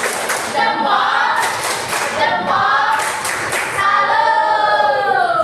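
A school class doing a rhythmic 'tepuk salut' clapping cheer, several bursts of patterned hand claps and thumps from a group of students in a classroom, with voices chanting along.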